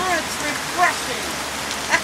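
Steady rain falls in a broadband hiss on an outdoor summer day, with a couple of brief voices chiming in faintly over the wash.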